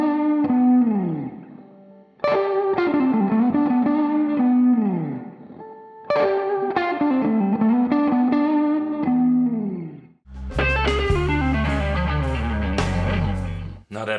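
Distorted electric guitar playing a blues lick from a guitar solo, phrased in bursts with bends and slides down the neck, ending in a dense, ringing chorused passage; loud and close, no talking.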